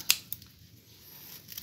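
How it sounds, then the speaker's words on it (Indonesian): Scissors snip through green fodder grass being cut as feed for rabbits, goats and sheep, giving two sharp close-up cuts near the start and fainter snips toward the end, with no talk over them. "Ya, kita gunting seperti ini."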